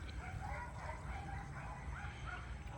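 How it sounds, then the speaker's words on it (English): A dog yips and barks in short, irregular bursts by a pool in rural Nueva Ecija, fairly faint and distant over steady outdoor ambience. "Even the lazy dog at the pool."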